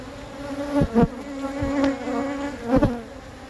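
Honeybees buzz around a hive in a steady drone, with several individual bees zipping close past in quick passes.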